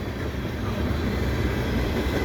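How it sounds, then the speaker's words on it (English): A CN eastbound mixed freight train rolls past steadily on a sunny, cold February afternoon, a loud continuous rumble and rattle of wagons close by, with no voices. "So we got a sunny train here."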